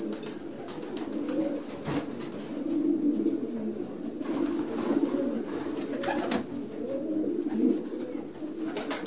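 Breeding stock pigeons cooing steadily inside their loft, a dense overlapping chorus of soft throaty coos with occasional wing flutters, close and continuous with no talking.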